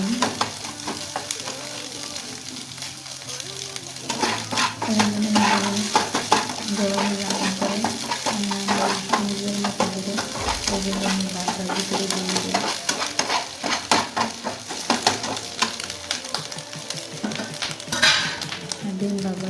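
Egg frying with onion in a pan sizzles steadily throughout, with repeated scraping and stirring strokes of a utensil against the metal, close and fairly loud, and no talking.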